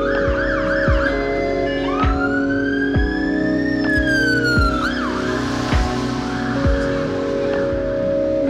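Fire truck sirens wail loudly as they pass along a rainy London street, the rising and falling tones sweeping repeatedly over a steady rumble of traffic.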